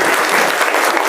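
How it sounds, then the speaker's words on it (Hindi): Loud, dense applause from an audience at a school Teachers' Day ceremony, sustained clapping with no break across the whole moment. "बार जोरदार तालियां हमारे सभी गुरुओं को।"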